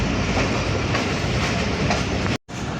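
The Barendra Express running after leaving Bhabanipur station gives a steady, loud rolling rumble with rhythmic clickety-clack, cut by one brief dropout near the end.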